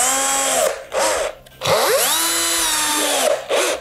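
A power drill drives a screw into wood in two long whining bursts with short pauses, the motor pitch rising and sagging under load, loud and close.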